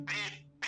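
Two loud nasal duck quacks from an animated cartoon sound close by, the second following after a short pause.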